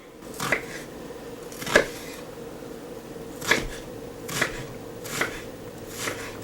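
A knife chops through an onion on a cutting board, six sharp separate strikes at an uneven slow pace, close and fairly quiet, with no one talking.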